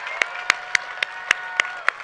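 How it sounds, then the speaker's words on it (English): A rally crowd for gun reform claps in a steady unison rhythm, seven sharp evenly spaced beats over a low constant murmur. "Can we give a round of applause to Manny and Patricia?"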